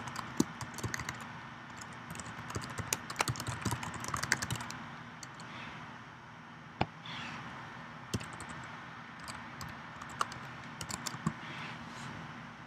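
Contact information being typed on a computer keyboard, with irregular bursts of close, crisp key clicks separated by pauses and a few louder isolated taps.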